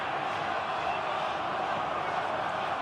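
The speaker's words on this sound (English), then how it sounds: "The crowd trying to make themselves heard in the referee's ear." A rugby union crowd at a Test between Australia and Russia in Nelson, New Zealand, making a steady, distant roar of voices that runs the whole time with no breaks.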